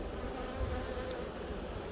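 A steady, close drone of honey bees buzzing at their hive, continuous and fairly loud with no voices.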